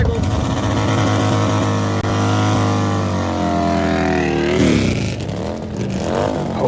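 Harley-Davidson Fat Boy motorcycles on a drag run roar loud and close, engines revving and climbing in pitch through a sustained pull, then the note drops and fades.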